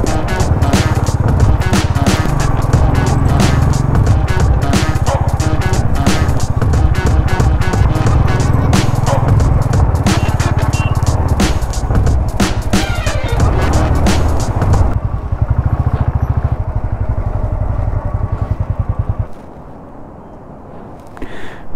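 A motorcycle rides a rough dirt, stone and pothole-strewn mountain road to Pangong Lake in Ladakh, its engine and rattling chassis loud and continuous for about fifteen seconds before thinning to a lighter rumble and then a quiet idle.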